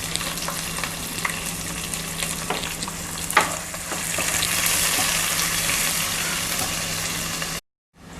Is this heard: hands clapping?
no